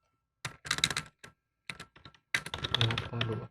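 Bursts of rapid typing on a computer keyboard while entering a file name, irregular clusters of close, crisp key clicks separated by short pauses, with a longer dense run at the end.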